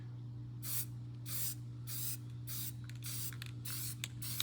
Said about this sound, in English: you want a nice light spray